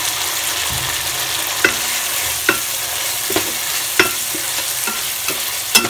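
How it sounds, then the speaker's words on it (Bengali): Dried fish being stirred into spice paste as it fries in a pan, a steady sizzle broken by sharp spatula scrapes and clacks at irregular intervals, close and alone with no voices. "দিয়ে আমি সুন্দর করে মশলার সাথে শুটকি মাছগুলো কষায় নিব।"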